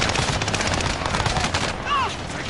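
Rapid machine-gun fire rattles in a PS4 shooter, a loud continuous burst of shots with a brief whizzing sound near the end and game voices faintly underneath.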